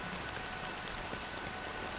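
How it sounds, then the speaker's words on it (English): Steady rain falls in a Penacony scene of a video game, a dense, even patter of drops on surfaces that stays close and continuous, with no voices over it. "But it's still raining."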